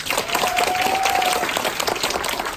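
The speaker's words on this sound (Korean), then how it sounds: "우리 김예림 사장님한테 큰 박수" Business seminar audience applauds a speaker with brisk, dense clapping; a thin steady tone runs briefly beneath the first half.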